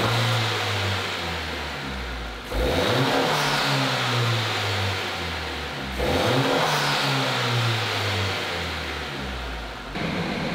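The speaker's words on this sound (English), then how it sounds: "See if it made any turbo sound differences. little louder." A 2022 Honda Civic Si fitted with a Spoon Sports intake and Hondata FlashPro tune revs hard from idle twice, each time climbing and then falling back, loud and close.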